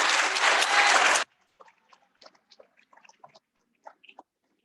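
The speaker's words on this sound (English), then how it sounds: "Can we get some applause for that?" Short burst of applause in a student senate meeting after a bill is presented, loud for about a second and then cut off abruptly, followed by scattered faint clicks and small sounds.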